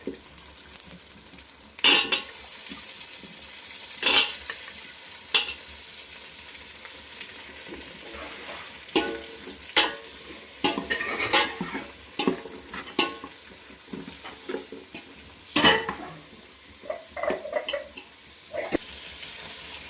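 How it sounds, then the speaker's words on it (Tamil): Brinjal and drumstick pieces sautéing in oil for a Tamil tapioca and dried-fish curry give a steady sizzle, with repeated sharp scrapes and clatters of stirring scattered throughout; no voices. "நல்லா எண்ணெயிலே கொஞ்சம் நம்ம வதக்கிக்கணும்."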